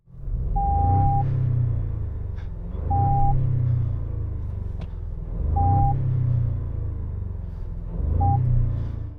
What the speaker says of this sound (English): now this is what it sounds like on the inside